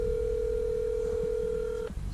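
A steady telephone tone sounds on a phone call placed from outdoors while metal detecting for buttons, buckles and silver, holding unbroken for nearly two seconds over low background rumble before cutting off abruptly.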